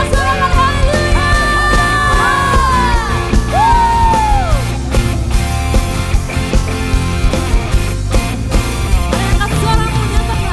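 A church congregation shouts and cheers hallelujah together, a loud, sustained crowd roar of yells and whoops over music, with rising vocal cries near the start.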